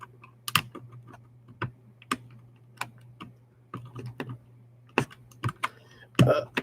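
Individual keystrokes on a Keychron K4 keyboard with a lubed, muffled switch, tapped one at a time in an uneven rhythm, about a dozen close, soft clicks over a steady low hum, with a louder cluster at the end.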